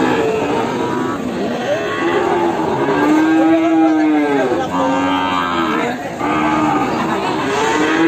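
Ongole crossbreed cattle at a cattle market in Kebumen moo repeatedly in long, drawn-out, loud calls, some overlapping, over a murmur of background market noise.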